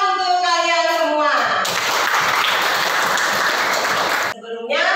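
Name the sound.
classroom applause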